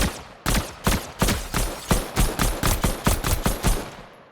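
A pistol fires in a video game, a dozen sharp, evenly spaced shots in quick succession, loud and close, with no talking.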